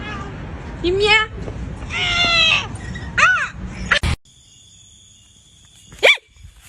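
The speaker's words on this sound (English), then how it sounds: "You meow." Kitten meowing in several drawn-out, rising and falling cries, close and loud, with a sudden cut to near silence and one final sharp meow; a person talks around the cries.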